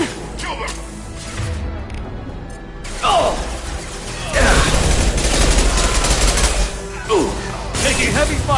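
Heavy, sustained gunfire in Mass Effect 2, with dense rapid bursts and clattering mechanical shots that swell and continue, mixed with shouting voices and battle noise.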